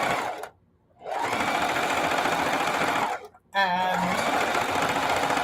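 Sewing machine running in steady bursts while stitching forward and back on a quilted casserole pad, loud and close, with two brief pauses and a short spoken word.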